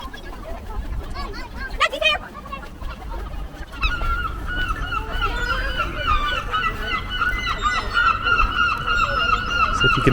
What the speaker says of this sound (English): So if you can hear me over the seagulls